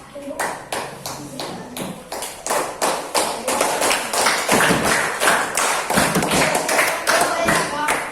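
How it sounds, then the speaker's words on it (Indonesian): Primary school classroom clapping in unison, a series of sharp, loud, regularly spaced claps close by, with children's voices and an adult talking faintly between them. "Baik, tepuk tangan."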